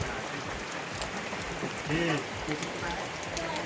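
Steady patter of rain falling, with a brief faint voice partway through.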